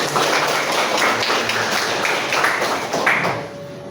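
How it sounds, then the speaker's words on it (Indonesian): An audience claps in a sustained burst of applause, dense and fairly loud, fading near the end. "mana tepuk tangannya buat kita"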